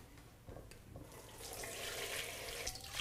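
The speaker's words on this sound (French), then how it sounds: "filtrez le bouillon" Chicken broth, simmered for 45 minutes for a homemade chicken vermicelli soup, is strained. A steady, rushing stream of liquid builds and grows louder about halfway through, then continues unbroken.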